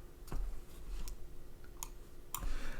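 A few sparse, sharp clicks from a computer keyboard are heard, one near the start and others spread out, fairly quiet against a faint steady room hum.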